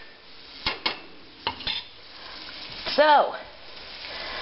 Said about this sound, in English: we've got a good sizzle going here now